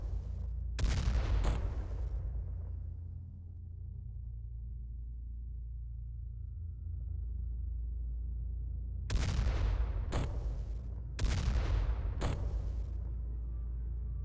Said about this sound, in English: Doom guy will keep firing at this one